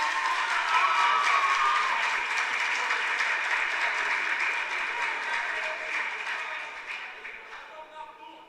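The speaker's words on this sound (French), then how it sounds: "Applaudissez l'équipe, s'il vous plaît." An audience at a televised school quiz competition applauds a team, a long sustained wave of clapping that gradually fades toward the end.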